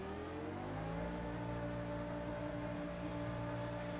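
A Benetton Formula One car leaves the pits during qualifying for the 1999 Brazilian Grand Prix in the racing game F1 Challenge 99-02. Its engine whine climbs steadily in pitch, then holds a continuous, fairly faint drone with no voices.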